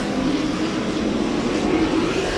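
Pro trucks racing on the Auburndale Speedway oval in the Florida Pro Trucks Challenge Series, a steady loud engine roar that drones without a break as the field runs after a restart.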